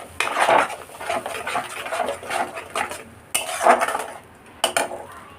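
A spoon stirs paneer masala in a pan, scraping and clinking against the metal in steady bursts, with two louder scrapes near the end.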